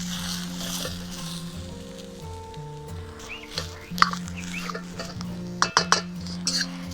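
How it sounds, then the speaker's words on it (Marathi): Clinks and scrapes of a metal cup pressing roasted pavta beans in a pan, in a village kitchen with a wood-fired stove. Sharp metallic taps stand out over steady background tones, and no one speaks. "आता आपल्याला एक फुलपात्र घेऊन हे अशा पद्धतीने ते थोडंसं प्रेस करून घ्यायचं आहे"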